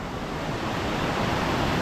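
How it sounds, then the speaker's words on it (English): Black Force waterfall at the head of Carlin Gill roars as a steady, full rush of falling water, heard up close with no pauses or voices. "Blackforce waterfall."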